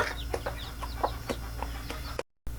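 Chickens cluck and peep repeatedly among newly hatched Basilan chicks, a busy chorus of short calls close by, ending in a brief cutout of silence.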